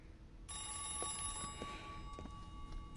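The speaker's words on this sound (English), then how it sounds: "Now who's ringing me on the phone?" An old-fashioned telephone rings in the 1940s detective video game L.A. Noire, a continuous bright metallic bell trill that stays steady and moderately loud.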